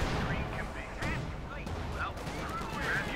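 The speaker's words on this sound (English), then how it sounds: "Panzer IV opening up." A Panzer IV tank cannon booms in a Company of Heroes 2 battle, with several heavy blasts rising out of a dense, continuous wall of gunfire and combat noise.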